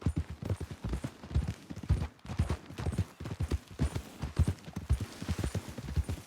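Horse hooves galloping in the Red Dead Redemption 2 video game, a fast, rhythmic run of close, punchy hoofbeats over a faint background, with no clear speech.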